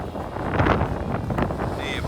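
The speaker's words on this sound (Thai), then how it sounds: "ว่าลมดีเหลือเกินตรงนี้" Strong wind buffets the microphone on a coast where kitesurfers ride, a steady low rushing roar through the whole stretch, loud and close.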